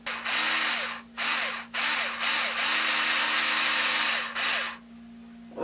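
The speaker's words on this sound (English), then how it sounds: "So, put it on there, and we take our screws and screw it back down." A small electric screwdriver whirs in several bursts of varying length as screws are driven back into the diff cover of an SCX10 II RC truck, close and loud, stopping between screws.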